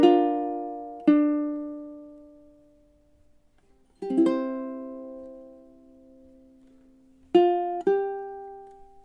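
Ukulele playing measure 4 of a song, sparse plucked chords in pairs with long ringing decays between them, slow and unhurried, close and alone.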